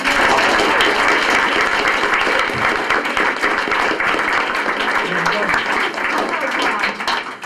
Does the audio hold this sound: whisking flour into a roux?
no